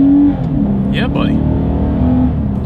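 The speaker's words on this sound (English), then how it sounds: "Let's do a quick little acceleration with the car having full control, and let's see how quickly we can get this one here up to speed." A 2020 Lexus IS 300 F Sport accelerates with a steady, loud engine drone that holds throughout, while someone speaks briefly over it near the middle.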